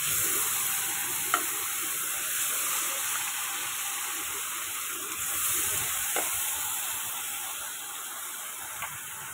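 Pieces of rohu fish frying in hot oil, a loud, steady close sizzle with constant hiss and a few small pops and clinks scattered through, no speech.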